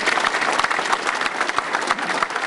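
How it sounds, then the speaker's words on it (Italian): Crowd at an Alpini section gathering ceremony in Dozza applauds in a loud, dense, sustained round of clapping, with individual hand claps standing out from the steady wash. "è per questo che credo sia giusto attribuirvi un grande applauso"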